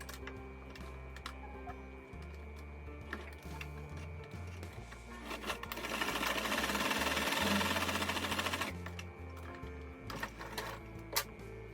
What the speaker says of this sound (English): Our next step is to sew our dart.